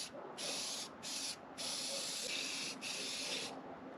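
Black spray paint hissing from an aerosol can onto a metal frame outdoors in the dark, in several separate bursts: a short spray, a second short one, a long sustained spray, and a final burst, each clearly audible with quiet pauses between.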